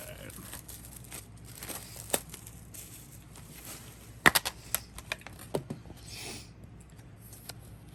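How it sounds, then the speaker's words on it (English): Plastic shrink wrap is peeled and torn off a DVD case, producing scattered crinkles and sharp crackling bursts that cluster in the middle of the stretch over a quiet background. "What do you say you unwrap that plastic for us, Aiden?"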